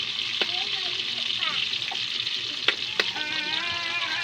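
Chicken fries in oil with a steady, moderate sizzle and crackle, while faint background voices and a few sharp clinks of utensils are heard.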